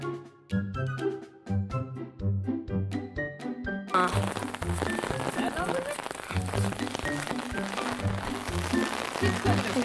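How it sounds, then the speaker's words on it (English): Pouring rain hisses steadily on surfaces underneath music, with melodic notes alone at first and then a dense wash of rain noise blending with the tune. "Exploring in the rain."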